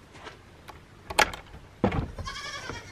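Farm goats being let out in the morning give a few short bleats, two louder calls standing out against quiet background rustle, with a faint mechanical whine near the end.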